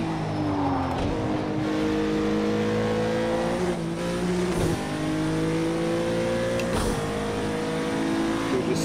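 Racing-game engine of a 2017 Acura NSX in Project Cars 2 revs hard and drops off repeatedly, a steady loud drone rising in pitch between throttle lifts with wastegate-like whooshes, continuous and close with no talking.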